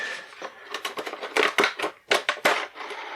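Cardboard flaps of a Dungeons & Dragons Monster Menagerie III booster brick box are folded open, giving close, dry crackling and crunching rustles in uneven bursts with sharper snaps near the middle and end.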